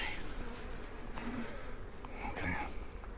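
Honey bees hum steadily around an opened hive in a back garden, a continuous close buzz with brief louder swells as they fly near, a person moving about nearby.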